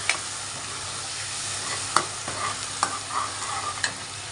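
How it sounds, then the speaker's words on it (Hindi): Onions frying in a pan with cumin seeds, stirred with a spoon: a steady broadband sizzle with several sharp scraping knocks of the spoon against the pan, close and clear with no talking. "तो मैं अब इसमें ये प्याज डाल रही हूँ और इसे अच्छी तरह से मिक्स करूँगी, चलाऊँगी।"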